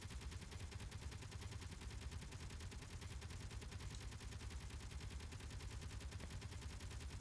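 Gunfire from automated turrets in the space building game Space Engineers, a dense, continuous rapid rattle of shots at steady volume with no pauses and no talking.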